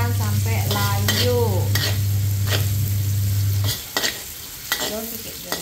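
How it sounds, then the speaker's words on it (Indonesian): Garlic and onion stir-fried together in a pan for capcay, a steady sizzle with scraping stirs under a continuous low hum that cuts out partway, leaving clattering utensil strokes. "Lagi numis-numis bawang. Bahannya bawang putih dengan bawang bombay. Ditumis barengan sampai layu."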